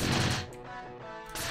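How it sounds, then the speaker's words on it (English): Shooting sound effect from a simple Pygame Galaga-style arcade game, a couple of short bright synthetic blasts with a brief tonal tail between them, loud and close, no talk. "I can keep shooting, and it just goes through the explosions."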